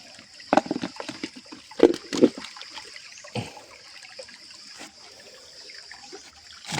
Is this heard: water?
yes